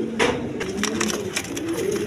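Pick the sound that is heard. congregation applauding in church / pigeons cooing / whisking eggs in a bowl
pigeons cooing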